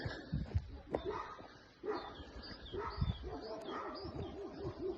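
Kangal and Black Sea mountain dogs bark in short bursts close by, mixed with bird coos and chirps and some faint voices in the background.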